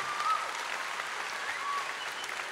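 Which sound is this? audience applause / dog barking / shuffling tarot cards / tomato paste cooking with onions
audience applause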